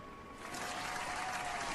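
A short burst of dense applause from a sound effect, steady and fairly loud, with no voices over it.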